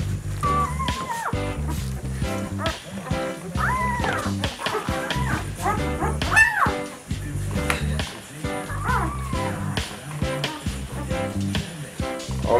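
Six-day-old Chihuahua and terrier cross puppies whimper and yip in a continuous run of thin, high cries, close by, with occasional faint voices underneath.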